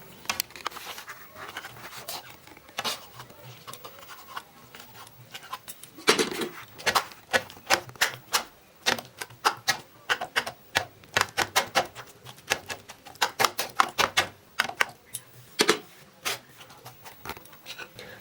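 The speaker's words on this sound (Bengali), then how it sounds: "আর এই যে চাকু দিয়ে এই টমেটোটা কেটে নিচ্ছি আমি" Knife chopping through a tomato on a board, a rapid run of sharp, close taps that starts sparse and grows into dense bursts, alone with no talk.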